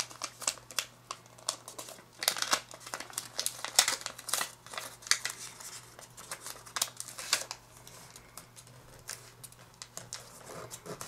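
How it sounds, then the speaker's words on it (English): Origami paper being folded and creased by hand, a close, continuous run of crisp crinkles and rustles with quick irregular bursts, heard alone without talking. "now fold these two flaps"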